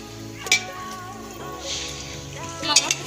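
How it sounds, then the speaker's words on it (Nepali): Onions fry in a pan for a Nepali meat dish, giving a soft, steady sizzle with a few brief louder crackles. "प्याज भुट्ने।"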